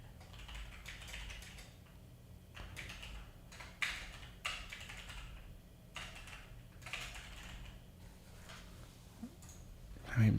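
Typing on a computer keyboard at a desk in a creative studio office, with bursts of close clicking keystrokes coming and going against a low steady hum.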